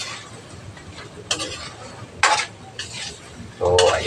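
Chicken feet being stirred in a pan, with scattered clinks and scrapes of the utensil against the cookware over a low background hum.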